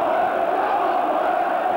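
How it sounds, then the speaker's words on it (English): A near-capacity football crowd at Ayresome Park, Middlesbrough, makes a steady, dense roar of massed voices, continuous and even throughout with no distinct cheers breaking out. "The crowd here, nearly a full house, most of them right behind Middlesbrough"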